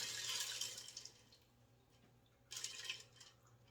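Two cups of water poured over dry pasta inside a Ninja Speedi pot: a splashy, hissing pour for about a second, a quiet pause, then a second shorter gush of water, close by with no talking.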